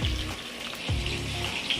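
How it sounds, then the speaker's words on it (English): Steaks pan frying for dinner give a steady, close sizzle and crackle, with a faint running-water wash mixed in and no talking. "He has some steaks pan frying"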